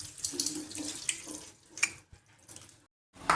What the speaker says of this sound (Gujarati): આપણે આ રીતે ધોઈ લેવાના છે સાબુદાણા પછી પલાળી દેવાના છે